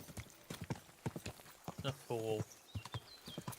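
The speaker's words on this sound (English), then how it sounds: "Chasing a horse." Quick, rhythmic hoofbeats of a horse galloping in the medieval video game Kingdom Come: Deliverance 2, fairly close, with a short spoken remark partway through.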